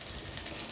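Cumin seeds frying in hot oil at the start of a Bengali prawn chorchori, a steady close sizzle with fine crackling filling the short moment, no talk.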